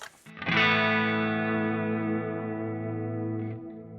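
An electric guitar on the clean channel of a multi-channel amp rig rings out as one sustained chord, struck firmly and left to decay smoothly with a touch of shimmer for several seconds.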